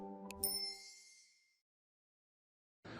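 A bright notification bell dings once, leaving a shimmering tone that fades out over about a second, followed by silence and then a short burst of a different sound at the very end.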